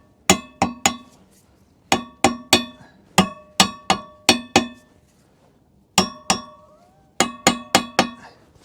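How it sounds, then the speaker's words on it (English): Metal hammer striking a fitting during boat maintenance on a Merry Fisher 805, sharp ringing clangs in quick clusters of two to four blows with short pauses between, close and loud with no talk. "Right, I'm just going to give it one more hammer."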